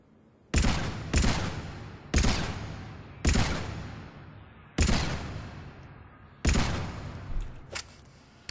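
Carnifex heavy pistol in Mass Effect 3 fired at long-range targets, six loud, sharp single shots spaced about a second apart, each with a decaying tail, followed by a couple of fainter clicks.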